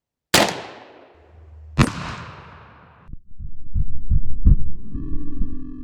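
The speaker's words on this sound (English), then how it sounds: "Today we're on the range testing our InvestArm Plains pistol and seeing what it can do to" An Investarms Plains blackpowder muzzleloading pistol fires into ballistic gel on a range: two loud sharp reports about a second and a half apart, each with a fading tail, followed by a low rumbling throb.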